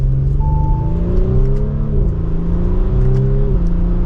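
Engine of a 2024 Audi SQ5 Prestige pulling steadily under acceleration, a loud continuous drone with rising tones that step through gear changes, heard from inside the moving car with no talking.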